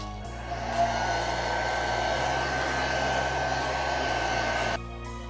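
A heat gun, or a similar hot-air blower, runs steadily on a craft piece as a continuous whooshing hum. It keeps an even level for about four and a half seconds, then cuts off near the end.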